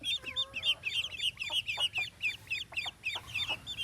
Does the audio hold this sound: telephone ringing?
no